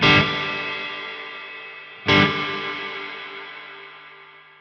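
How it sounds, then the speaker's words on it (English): Two guitar chords ring through a reverb pedal set to a long decay time, each struck loudly and left to wash out slowly, the second coming about two seconds after the first. "The more I turn to the right, the longer the reverb becomes."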